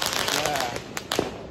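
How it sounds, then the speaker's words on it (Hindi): Firecrackers go off during a Diwali celebration, with a few sharp close cracks near the end over a dense, noisy background where voices seem to murmur. "पटाकों की आवाज़ सुन रहे हो"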